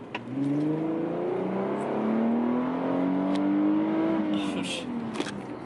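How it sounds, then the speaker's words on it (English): A 2008 Infiniti G35 sedan accelerates at full throttle from 20 mph. The engine note climbs steadily in a rising rev sweep, drops at a gear change, then climbs again, heard close and clear from inside the car. "this is a 20-mile-an-hour pull,"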